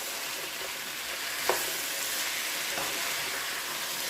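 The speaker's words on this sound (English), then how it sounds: "we'll stir this" Sausage and potatoes fry in a pan for a breakfast casserole, a steady sizzle broken by a few scraping stir strokes and one sharp utensil clink.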